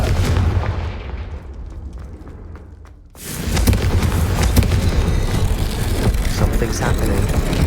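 In Hogwarts Legacy, the Confringo blasting spell detonates: a low rumble fades away, then a sudden loud explosion erupts into a sustained, booming roar that fills the remainder.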